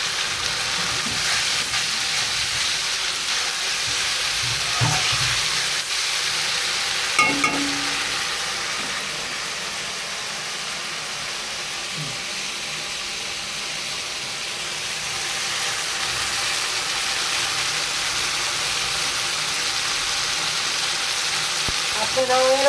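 Masala spices fry in a pan for a rohu fish curry with brinjal and flat beans, giving a steady close sizzle and hiss that holds throughout, punctuated by a few scraping stirs of a spatula.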